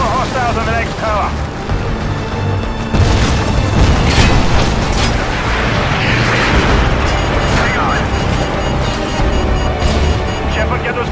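Heavy booming blasts from friendly fighter strikes in Call of Duty Modern Warfare 2, loud and close, with rumbling debris and chaotic battle noise over several seconds, while voices talk over the din.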